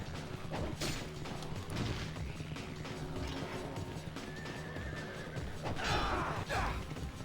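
Horse whinnying amid a busy Ninja Gaiden Sigma battle with cavalry, the neigh rising out of dense clashing and impact noise, with a second cry near the end.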